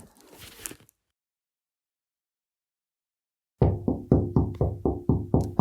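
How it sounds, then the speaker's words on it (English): Heavy knocking on a door comes in a quick run of about eight loud, close thuds after a stretch of silence, following a brief faint rustle at the start. "Heavy knocking on my door."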